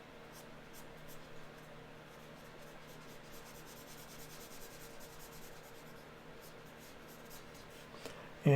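Charcoal sticks drawing a portrait on paper, with a soft continuous scratchy rubbing and faint strokes close by at low volume.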